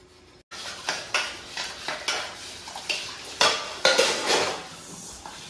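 Tea utensils and breakfast dishes are scrubbed and rinsed by hand, with repeated clinks and scrapes of metal pots and cutlery in irregular bursts against a quiet background, close by and with no speech.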